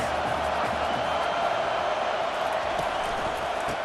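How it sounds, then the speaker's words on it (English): Stadium crowd in College Football 25, South Alabama vs Oregon on PS5: a steady, dense roar of massed fans holding loud and even throughout, with no break or distinct cheer spike. "This crowd trying to make life miserable for this offense."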